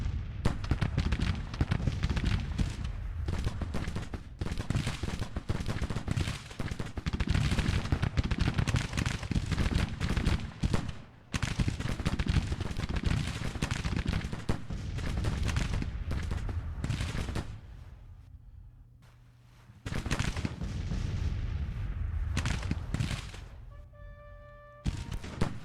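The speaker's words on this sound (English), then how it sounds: "taking some point blank fire from our 12-pound Napoleons and some fire from these 24-pound howitzers" Cannon and musket fire in the Grand Tactician Civil War video game, where 12-pound Napoleon guns and 24-pound howitzers roar in a dense, continuous battle barrage. The firing briefly thins out twice before resuming at full strength.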